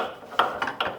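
A ratchet wrench loosens a wheel nut on a GTI during wheel refitting, giving three or four quick, close metallic clicking bursts in short succession.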